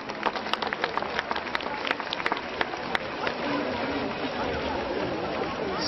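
Audience applause at a gala concert in Goris, a dense burst of clapping with a few sharp individual claps early on, settling into a steady crowd roar that continues to the end.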